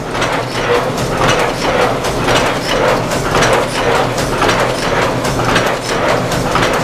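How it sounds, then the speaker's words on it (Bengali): An automatic paper cup making machine draws in paper blanks by suction, giving a steady rhythmic mechanical clatter with repeating cyclic pulses throughout and no voices. "এবার এই সুইচটি টিপলে অটোমেটিক মেশিন সাকশন করবে পেপারটিকে।"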